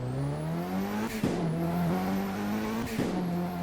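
A Mitsubishi Evo 9 engine in the Midnight Racing Tokyo racing game, droning loudly at steady high revs with two brief dips as gears shift, continuous and close.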